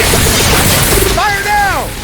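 Starship weapons discharging in a Star Trek video game, a dense roar of booming fire with rising and falling electronic sweeps near the end, loud and continuous, with speech underneath.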